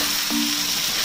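Chicken pakoras hit hot frying masala for dry chilli chicken and set off a steady sizzle. A short clunk from the pan cuts through at the start.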